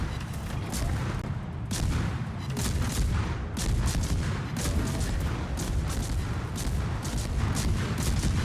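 Anti-aircraft guns blaze in World of Warships aboard a tier 10 American destroyer, a dense, continuous barrage of rapid overlapping bursts with heavy booms, loud and unbroken throughout with no voices.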